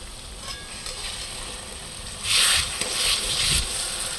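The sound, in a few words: spice masala frying and being stirred in oil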